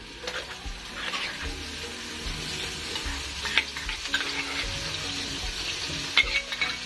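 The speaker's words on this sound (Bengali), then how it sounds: "এবারে মাছ ভাজা তেলের ভিতর দিয়ে দেব পেঁয়াজ বাটা," Onion paste fries in oil already used for frying fish, giving a soft continuous sizzle while a utensil stirs it and scrapes the pan in irregular strokes, close but fairly quiet, with no speech.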